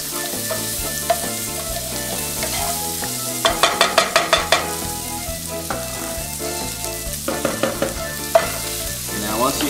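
Button mushrooms sauté over cooked-down onions in a home kitchen pan, a steady sizzle with bursts of stirring clatter, partly buried under background music with a strong bass line.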